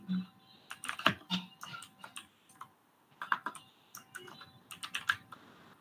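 Close, quick bursts of key clicks come from a computer keyboard as a variable declaration is typed, with irregular clusters of taps and short pauses between them.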